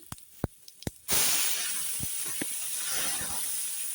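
Chopped onion drops into hot oil already seasoned with five-spice and dried chillies and breaks into a loud, steady sizzle after a few light taps, the hiss staying close and continuous with no voices.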